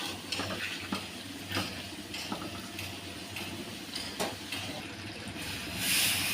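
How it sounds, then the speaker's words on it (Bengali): Hot water is poured into a cooking pot of broad bean seeds with dried fish curry, a steady wet splashing rush with soft clinks that stays close and carries on for several seconds with no talking. "এখন গরম পানি দিয়ে দিচ্ছি"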